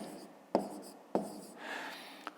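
A pen scratching out a fifth-grade math exercise on paper, with a few sharp taps and strokes and a longer scribbled stretch, close and fairly quiet.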